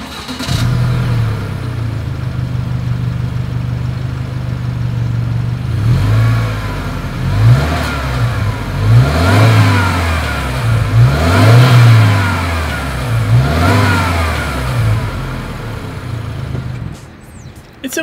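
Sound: car exhaust revving

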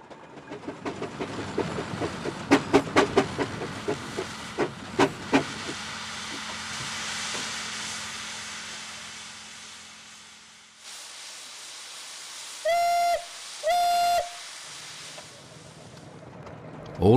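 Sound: steam engine hissing and whistling at a steam rally

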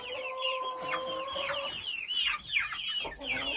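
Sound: chickens clucking in coop, rooster

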